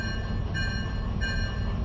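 A train in the Derail Valley simulation game rumbles steadily and loudly with a continuous low roar and faint tonal whine, with no talking.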